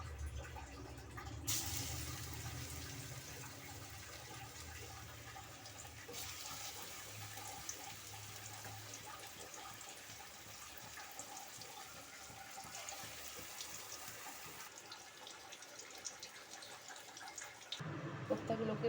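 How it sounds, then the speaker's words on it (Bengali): Mutton-fat koftas dropped into hot oil in a wok give a steady, soft, hissing sizzle that runs unbroken for nearly twenty seconds, with no voices over it. "কড়াইয়ে তেলটা দিয়ে দিলাম। তেলটা আমার গরম হয়ে গেছে। এবার আমি কোপ্তাগুলোকে একে একে দিয়ে দেব।"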